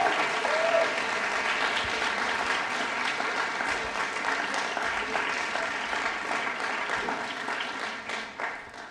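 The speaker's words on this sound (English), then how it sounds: "Can we have a massive round of applause for our sports colours winners this year?" Sustained audience applause at a school sports colours award ceremony, a dense steady wash of many hands clapping that fades slightly toward the end.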